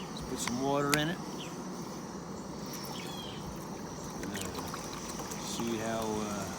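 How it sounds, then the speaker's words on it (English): Water is poured into a pot on a UST Trekker camping stove, a continuous soft, hissy trickle lasting several seconds, with someone talking just before and after. "let's put some water in it."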